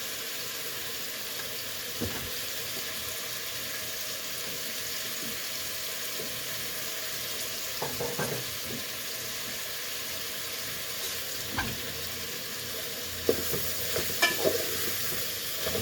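Beef Bicol Express cooks in a pan as chili goes in, with a continuous close sizzle and intermittent stirring clinks and scrapes throughout.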